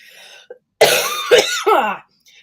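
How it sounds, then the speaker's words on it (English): A person coughs in a loud, harsh burst of several coughs close to the mic, with a short throat-clearing sound before it. "I'm still coughing"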